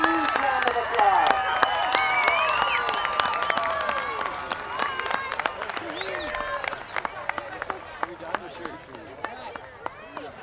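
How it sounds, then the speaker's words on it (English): Crowd applause and cheering for a 2010 high school homecoming royalty court, loud at first with voices and shouts mixed in, then thinning into scattered sharp claps as it fades. "let's give our 2010 Homecoming Royalty Corps a huge round of applause"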